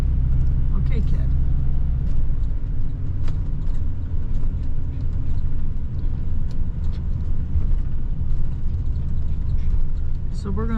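RV road noise heard from inside, a steady low rumble of engine and tires running continuously throughout, with a person talking over it.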